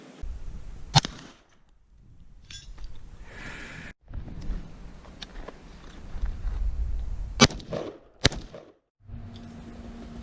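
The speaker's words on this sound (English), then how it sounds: "that video was me shooting the Colt Commando, both suppressed and unsuppressed" Colt Commando rifle fired both suppressed and unsuppressed: a few sharp, isolated shots spaced seconds apart, the louder cracks standing out over a low rumbling outdoor background.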